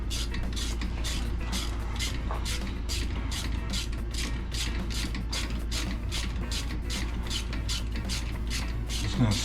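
Rapid, steady clicking of a ratchet tightening a thermostat housing bolt on a 2018 Chevrolet Colorado, heard close and continuous over a low engine-bay hum.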